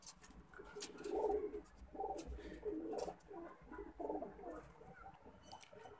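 Pigeons in a loft give soft, repeated cooing calls in a steady rhythm, several birds close by over a low background hum, with no talking.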